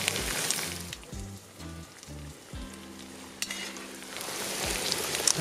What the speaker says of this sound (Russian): Лук обжарился, отправляем к нему морковь и обжариваем еще 3 минуты.